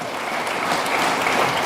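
An audience at a formal address in Côte d'Ivoire breaks into steady applause for a World Bank director, a dense, continuous wash of clapping that holds at a constant level throughout.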